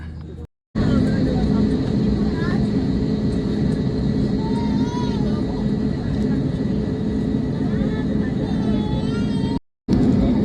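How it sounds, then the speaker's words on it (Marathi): Inside an IndiGo airliner cabin shortly before takeoff on a Delhi to Goa flight, a steady low engine rumble and whine fills the space while people talk nearby. "फ्लाईट झालं सुरू. आता थोड्याच वेळात टेक ऑफ घेईल."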